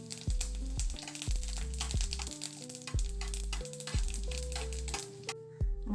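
Dried chillies and curry leaves drop into hot oil with spluttering mustard seeds, crackling and sizzling in bursts up close, while a stepped melodic tune plays underneath.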